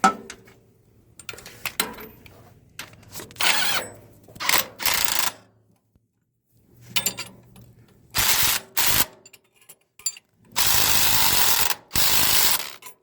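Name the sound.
ratchet tightening a 16 millimeter bolt on a tractor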